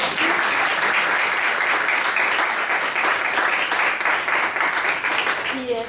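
Steady applause from an audience at an academic roundtable conference session fills the room, many hands clapping close and loud throughout, with a voice briefly breaking in at the end.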